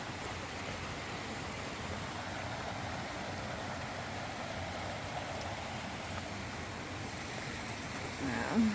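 Waterfalls at Sage's Ravine pour with a steady, broad rushing roar that stays even throughout, heard from nearby on a trail.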